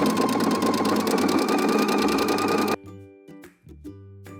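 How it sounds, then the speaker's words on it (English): A sewing machine runs fast and steady zigzag stitching a knit hem, a close mechanical whir, then stops, leaving a few short clicks and soft handling sounds. "now I'm going to zigzag my hem down"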